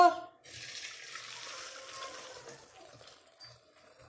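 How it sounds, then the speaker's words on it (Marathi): Water boiled with lentils for puran is drained from a pressure cooker pot, starting with a brief splash and then settling into a soft, close trickle that fades and finishes with a small final splash. "असं पाणी पूर्ण निथळून घ्यायचं डाळीतलं"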